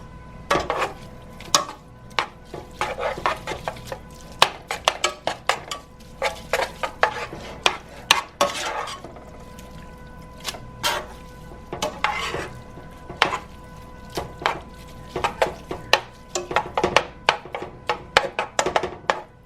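Garlic sizzles in a hot pan for teriyaki noodles while a utensil stirs and scrapes, giving close, loud, irregular clanks and scrapes over a steady frying hiss.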